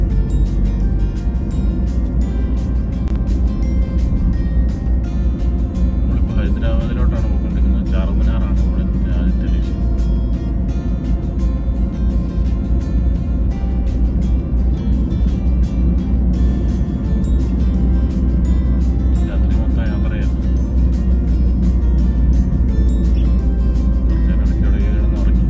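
A car cruising at roughly 80–90 km/h on a highway at night, heard as a loud, constant low road and engine rumble from inside the cabin, with someone talking over it throughout.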